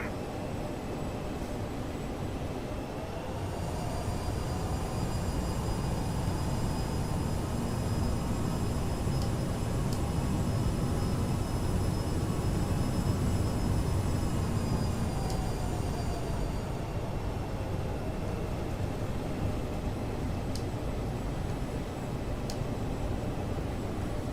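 Aerosoft CRJ regional jet engines spooling up for takeoff in Microsoft Flight Simulator, a steady loud roar with a rising high whine that holds, then eases as the run continues.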